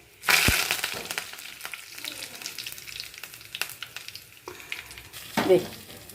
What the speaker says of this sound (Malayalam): കടുക് വറുത്തൊഴിച്ച് ഒക്കെ ശരിയായി.